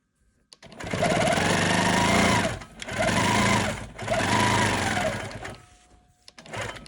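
Janome Quilt Maker Pro 20 long arm sewing machine stitching a quilt-as-you-go strip, three close, loud bursts of rapid buzzing needle motion separated by short pauses, then a brief final start near the end.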